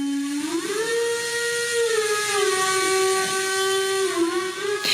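Loud air-blown whistle sounding a sustained musical tone that slides up, holds, then dips and rises again, rich in overtones, ending with a brief burst of hiss.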